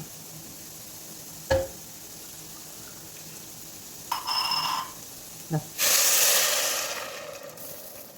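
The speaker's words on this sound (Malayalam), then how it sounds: "തിളച്ച വെള്ളമാണ് ഞാൻ ഒഴിച്ചു കൊടുക്കുന്നത്." Boiling water poured onto roasted coarse wheat rava (nurukku gothambu) for upma bursts into a loud hiss and sizzle that fades slowly, after a couple of brief clinks and a shorter sizzle.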